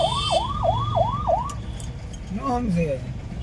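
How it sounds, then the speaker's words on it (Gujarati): Wailing ambulance siren carrying a body through congested Bihar traffic, rising and falling in rapid repeated sweeps at close range before fading, then a second siren yelps further off, with street noise and someone talking throughout. "ગમે એટલું સાયરન વગાડો, હોર્ન મારો"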